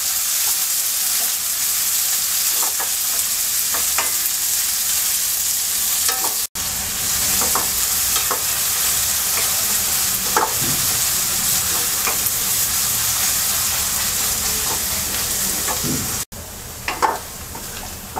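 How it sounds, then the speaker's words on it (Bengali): Chopped onions and whole cumin seeds fry in hot oil in a pan for a fish curry, with a steady dense sizzle throughout and a few stirring scrapes. No one speaks. "পেঁয়াজটাকে হালকা ভেজে নেব।"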